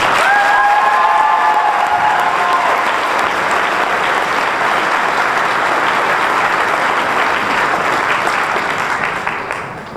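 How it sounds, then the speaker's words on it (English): High school graduation audience giving a loud, sustained round of applause for the co-valedictorians, dense clapping with light cheering that holds steady and begins to fade at the very end. "Let's give them one more round of applause."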